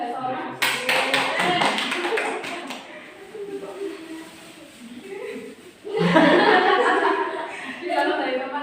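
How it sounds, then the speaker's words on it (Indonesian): Scattered clapping from a classroom group during a micro-teaching lesson, mixed with chuckles and lively voices, with a fresh louder burst of claps and chatter near the end. "Beri aplaus dulu untuk Mbak Sora."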